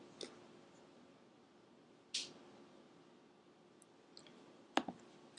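Three sharp, faint mouse clicks spaced apart on a quiet background while a create blog button is clicked in Blackboard 9.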